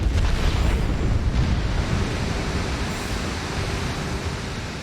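A bomb explosion in the World of Warplanes air combat game, a loud, dense rumbling boom that rolls on for several seconds and then slowly fades.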